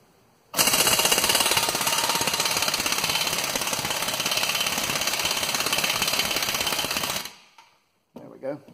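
Compressor-driven air tool on its middle setting during a front brake job on a 2010 Hyundai Accent, a loud continuous rapid hammering burst lasting about seven seconds, then stopping abruptly, followed by a short clunk.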